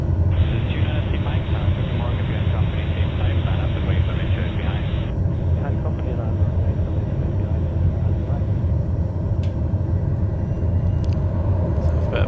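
A TBM aircraft taxiing after landing in Microsoft Flight Simulator: a loud, continuous turboprop engine drone with a steady high whine that drops away partway, constant and close.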